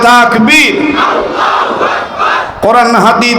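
At an Islamic religious sermon (waz) in Taraganj, Rangpur, a large crowd roars the takbir chant in unison. Two loud, close, sustained shouted responses are separated by a quieter stretch of crowd murmur.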